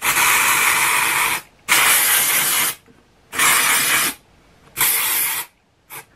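Batiste Flirty Floral dry shampoo hisses onto hair in four long bursts and a short final puff. The sprays are loud and close, with brief silent gaps between them.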